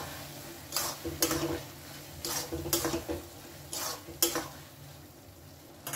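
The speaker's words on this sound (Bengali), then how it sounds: "এবার এটাকে ভালো করে মেশাবো।" A spoon stirs ground paste into a vegetarian bottle gourd curry, making a string of soft scraping strokes in an irregular rhythm, quiet and close, with no talking.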